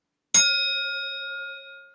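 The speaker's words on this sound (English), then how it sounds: "I love that bell." A single bell strikes once with a bright, clear onset, then rings on in a pure sustained tone that slowly fades over about two seconds, alone and close.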